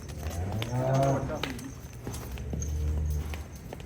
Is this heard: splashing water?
no